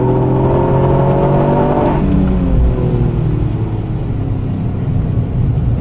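Car engine accelerating hard on the Nürburgring track in the rain: a loud, close engine note climbs steadily, drops sharply at a gear change, then pulls again at a lower pitch.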